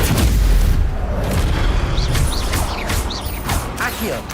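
A Stupefy spell cast during combat in Hogwarts Legacy, a heavy booming blast with crashing impacts and swooshing magic effects, loud and continuous across a dense battle mix.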